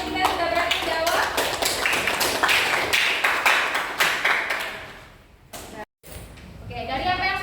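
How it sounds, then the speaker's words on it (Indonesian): Classroom applause for two students who answered a question, a dense burst of many hands clapping for about five seconds, then fading out as the room goes briefly quiet. "Kita beri aplaus dulu untuk dua teman kita yang sudah berani menjawab"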